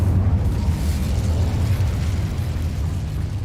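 Incendio fire spell in Hogwarts Legacy bursts out as a steady, dense roaring blast of flame, loud and close, rumbling low throughout and slowly easing off, with no talking.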